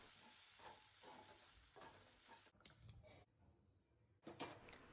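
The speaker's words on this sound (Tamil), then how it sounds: "மசாலாவோட பச்சை வாசனை போகிற அளவுக்கு நல்லா வதக்கிக்கலாம்." Masala powders sautéed with onions in a pan give a steady frying sizzle and stirring scrape for about half the time, then softer, patchier sizzling with short gaps before a brief louder burst near the end; no one speaks.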